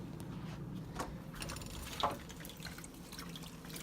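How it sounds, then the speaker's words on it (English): Fingers are rinsed under a running tap while making glass frit, a steady close wash of water with a few soft splashes and drips, no talking. "rinse that off your fingers"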